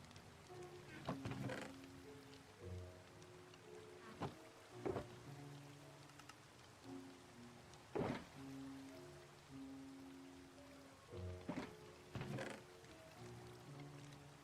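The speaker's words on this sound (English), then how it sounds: "So the rain sounds in this game are so peaceful, but that's not exactly rain. That's the water flowing up top too" Rain pattering alongside water flowing overhead in a Minecraft survival world, a soft continuous wash under recurring plucked musical notes and a few sharp clicks, gentle and quiet throughout.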